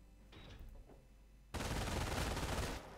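Machine gun squad firing in the strategy game Company of Heroes, quiet battlefield ambience and faint distant shots, then a sudden dense burst of loud automatic fire lasting over a second before cutting off.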